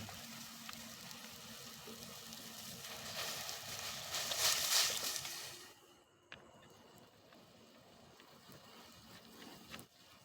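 Water pours into a cooking pot for Maggi at a group campsite, a rushing stream that swells and then stops abruptly, followed by quiet clinks and faint background noise.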